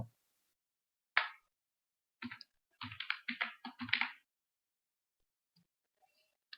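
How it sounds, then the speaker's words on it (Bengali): Someone types a channel name on a computer keyboard: quiet, close keystrokes come in a single tap, then a rapid cluster of clicks, trailing off into near silence. "চ্যানেলের নাম লিখব"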